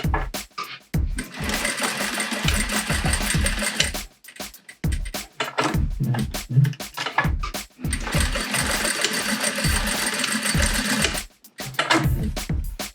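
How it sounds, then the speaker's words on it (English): A sewing machine runs in two long loud bursts, stitching back and forth over overlapped elastic for a scrunchie, with short pauses between runs. "And then I'm going to put it in my machine and do 2 stitches to secure it."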